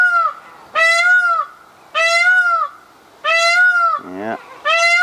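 Farm ducks give a run of loud, nasal honking calls nearby, four drawn-out calls in a steady rhythm with brief gaps and a lower, rougher call near the end.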